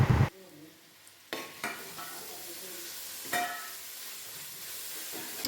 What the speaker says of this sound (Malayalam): എന്നിട്ട് നല്ല പോലെ ഇളക്കി കൊടുക്കാം